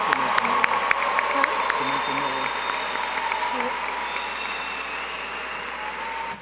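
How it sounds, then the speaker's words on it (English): Sustained applause from a large crowd at a high school graduation ceremony fills the clip, steady and dense, with a faint low engine rumble underneath. "Please join me in a round of applause for these young scholars."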